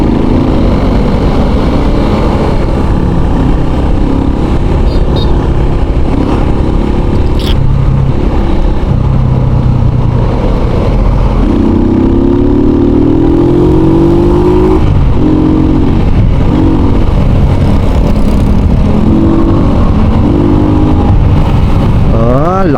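A Honda ADV 160 scooter engine running loud and close, with its note rising and falling as it revs, and a voice talking over it.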